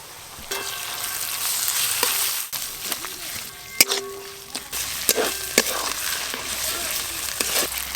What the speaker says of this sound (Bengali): এর ওপর দিয়ে আদা রসুন দিয়ে আর একটু ভালো করে ভেজে নেব।